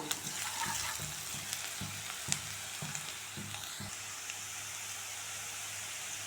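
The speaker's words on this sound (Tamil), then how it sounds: "இது எல்லாத்தையும் போட்டு ஒரு டைம் வதக்கி விட்டுக்கோங்க" Onions sautéing with Kashmiri chilli powder and salt for bread chilli, a steady close sizzle with scattered soft stirring knocks and scrapes, no voices.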